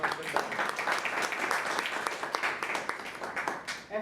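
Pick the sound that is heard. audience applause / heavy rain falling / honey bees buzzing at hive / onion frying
audience applause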